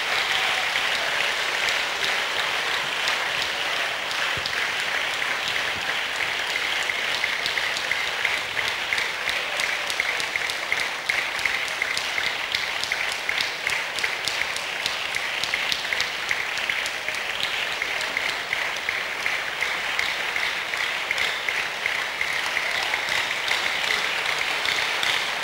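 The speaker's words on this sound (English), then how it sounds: "Give him a good clap offering as he comes." A church congregation claps together in a long, sustained round of applause, a dense, steady, fairly loud patter of many hands that continues evenly throughout with no talking.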